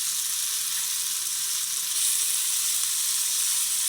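Pieces of home-raised country chicken frying in a pan, a steady, close, fairly loud sizzle that holds evenly throughout with no talking.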